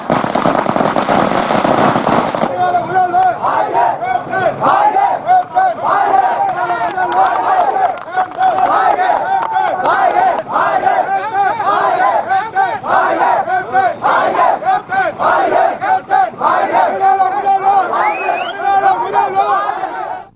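Party workers celebrating outdoors let off a dense, continuous crackle of firecrackers while a crowd cheers and shouts loudly throughout.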